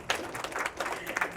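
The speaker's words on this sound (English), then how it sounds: "Can we clap for Leona?" Brief burst of audience applause and clapping after a community stories talk, a short scattered patter of hands from a modest crowd.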